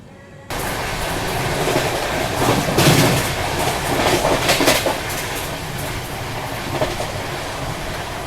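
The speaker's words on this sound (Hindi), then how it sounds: "एक 130 की रफ्तार में अपनी महाबोधि एक्सप्रेस फिलहाल भाग रही है।" The Mahabodhi Express runs at about 130 km/h with a loud, steady rail roar and rushing wind. Faint clickety-clack from the wheels rises briefly midway.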